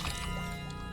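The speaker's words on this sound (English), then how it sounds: "Something heavy fell from above and splashing into the pool, spraying my face with rotten, stagnant water." A heavy body splashes down into a pool of rotten, stagnant water in the video game Corpse Party: Book of Shadows, a loud, dense, continuous wash of sloshing water filling the whole second.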